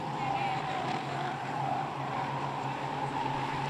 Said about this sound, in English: The cars head on to the back straight.